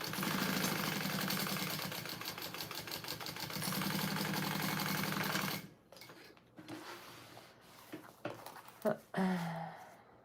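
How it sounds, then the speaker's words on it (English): A sewing machine runs a basting stitch on a mini backpack, a fast steady mechanical whir for about five seconds, then stops, leaving faint handling clicks and rustles. "just even sewing a basting stitch over that, I'm struggling."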